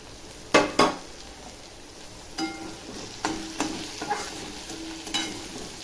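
Tomatoes frying in a pan with turmeric and salt, a soft sizzle broken by several distinct spatula scrapes and clinks against the pan, alone without talk.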